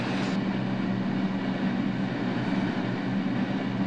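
A Manhattan-bound 2 subway train rumbles along the track in a steady, loud, continuous roar that fills the whole stretch without a break, with no one talking.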